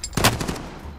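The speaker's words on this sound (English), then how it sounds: "I'm taking fire." A short burst of a few quick gunshots in Call of Duty: Warzone, sharp and fairly close, then fading out.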